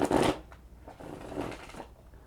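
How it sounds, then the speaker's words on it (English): Tarot cards being shuffled by hand, with a loud close burst at the start followed by several softer rustling riffles and slides, with no voices. "Now I'll proceed with the cards for this weekend"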